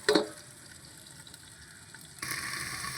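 Kakrol (spiny gourd) frying in oil in a pan while being stirred: a steady close sizzle with a clatter of the spoon at the start, swelling louder and hissier toward the end.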